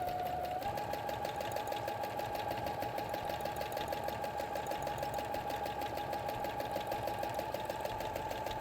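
A sewing machine stitching fabric for a pencil case, a fast, steady mechanical whirr with rapid rhythmic needle ticks running continuously and close, with no talk over it.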